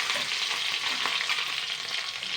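Green chillies and crushed garlic crackle and hiss in hot mustard oil, a dense, steady sizzle close by with small popping spatters and no talking.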